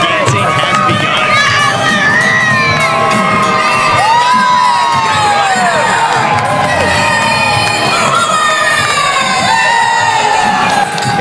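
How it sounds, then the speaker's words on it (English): An indoor wrestling crowd roars and cheers loudly and continuously after Larry's win, with whoops and high shouts rising over a dense wall of voices. "The crowd is absolutely electric and blowing the roof off this place right now."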